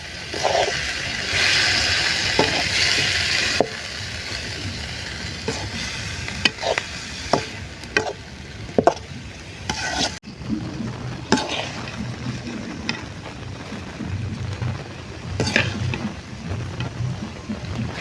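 Pepper chicken cooking in a pan with turmeric and cumin powder, stirred repeatedly, giving a loud sizzling hiss that eases after a few seconds and a run of spoon knocks and scrapes against the pan, close, with no talking.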